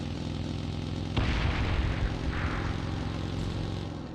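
A jet aircraft in the PUBG Mobile game roars past, a steady engine drone that swells sharply into a loud rushing blast and then sustains, with no talk.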